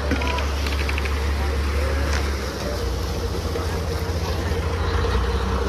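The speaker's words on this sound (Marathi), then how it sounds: "तर आपण आता इकडे बोट पार्किंग मधून बाहेर काढतोय." A boat is backed out of its parking berth at Sassoon Dock, its engine giving a constant low, close rumble under wind and water noise for the whole stretch.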